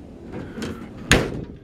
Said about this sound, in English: Doors close really nicely